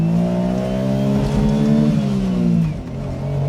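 Autozam AZ-1 Mazdaspeed, a tiny mid-engine kei sports car, pulls hard through a gear, its engine note climbing steadily and loudly from inside the cabin before a brief dip as the throttle lifts near the end.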